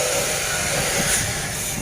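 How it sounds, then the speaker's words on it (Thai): Special freight train no. 986 at Ratchaburi railway station in Thailand, passing with a loud, continuous hiss and rumble of wheels and wagons that stays close and steady throughout. "ทางด้านขวามือตอนนี้เป็นขบวนรถพิเศษสินค้านะที่ 986นะครับ"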